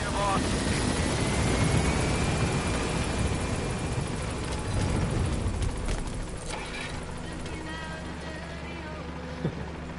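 Helicopter in Metal Gear Solid V, a steady rotor drone with a song playing over it, loud and continuous before fading slightly toward the end.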